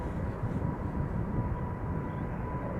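KLM Boeing 777-300ER airliner pulling up at Schiphol Airport: a faint, distant, steady jet rumble with a thin high whine, heard alone without talk.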